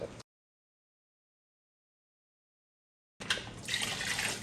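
Water pours into a cooking pot for lamb mandi, 4.5 cups in all. After a long silence, a brief, close splash and trickle of poured liquid fills the last second or so.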